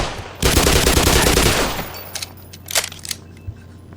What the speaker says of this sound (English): They've been shooting.